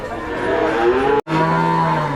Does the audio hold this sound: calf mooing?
yes